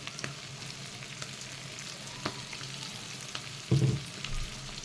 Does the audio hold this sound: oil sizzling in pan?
yes